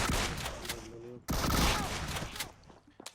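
Gunfire in PUBG Mobile, with dense, loud bursts of shots filling the clip, a brief gap near the middle, then another heavy burst. A voice is briefly audible among the shots.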